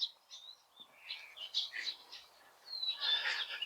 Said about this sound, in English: So we're having issues with birds again